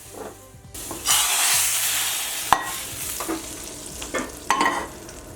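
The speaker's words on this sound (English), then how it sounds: "some cumin or geera seeds that are just sizzling away in a little bit of oil" Cumin seeds crackle and sizzle in a little hot oil with a steady frying hiss, a few sharp pops and a utensil stirring now and then.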